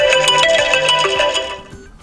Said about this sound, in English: Now you can click on one of those melodies to set up the best one for you.